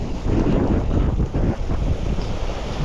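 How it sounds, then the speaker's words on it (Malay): Strong wind buffets the microphone in a steady, loud, low roar that does not let up, with gusty rumbles swelling and easing throughout. "Sikit lah, angin kuat."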